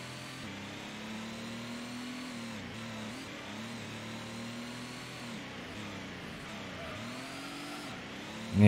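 A Pratt & Miller Corvette C8R-style race car engine in Gran Turismo 1, droning at steady high revs with a few brief dips and re-climbs between gear changes, loud and continuous with no talk.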